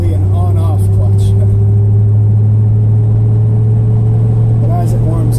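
The engine of a 1978 Chevrolet K5 Blazer on a cold start drive, a loud, steady low rumble that holds throughout, with someone talking over it at the start and end.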